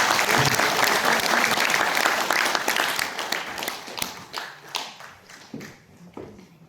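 Loud applause fills an auditorium at the National Assembly Library, many hands clapping densely at first, then thinning into scattered individual claps that fade toward the end.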